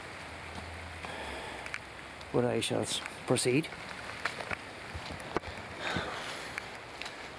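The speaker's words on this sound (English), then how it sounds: "It's raining again, folks" Rain falls outside old Cumber House in Claudy, Northern Ireland, a soft, constant patter with scattered drips while someone talks briefly in the middle.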